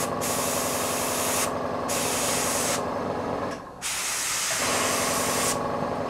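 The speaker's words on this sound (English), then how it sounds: "you can atomise it through the airbrush nozzle" An airbrush sprays Vallejo paint onto a miniature in close, steady hissing bursts. It cuts out briefly midway, then resumes with several more sustained sprays.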